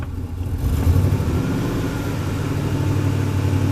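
A car engine held at raised RPM to keep the charging system working, a steady loud mid-pitched hum with no talking.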